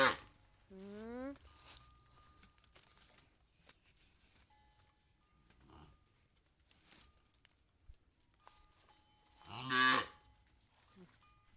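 A calf on a farm moos for its mother cow, with one drawn-out call near the start and a louder, shorter bellow later, separated by quiet stretches with faint background sounds.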